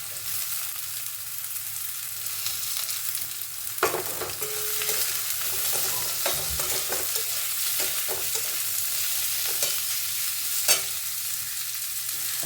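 Onion fries in oil in a pan for a fish bladder (tel potka) dish, a continuous close sizzle broken by a few sharper clacks and scrapes of stirring, with no voices.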